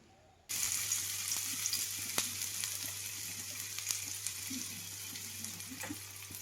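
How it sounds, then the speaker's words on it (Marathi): Onion dropped into hot oil on a tava, starting with a sudden loud sizzle that continues as a steady close crackle with occasional pops and stirring sounds. "आता ह्या तव्यामध्ये की नाही मी कांदा टाकून घेते"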